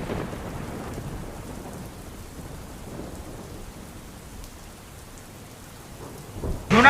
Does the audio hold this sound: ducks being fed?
no